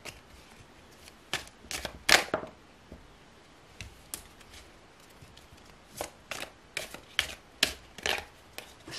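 Cards are shuffled in quick, crisp riffles and snaps, close up, with short pauses between bursts.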